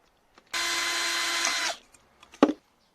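A power drill whirs steadily for about a second into a beer can, then stops, followed by a short sharp clack.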